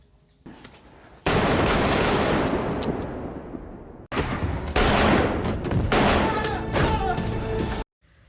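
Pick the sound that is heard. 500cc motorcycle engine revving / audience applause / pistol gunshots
pistol gunshots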